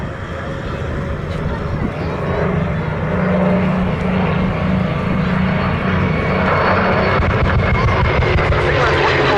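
A Buchon fighter roars through a strafing pass at the Duxford air show, a loud, steady engine drone that swells slightly as it passes, with a voice speaking over it.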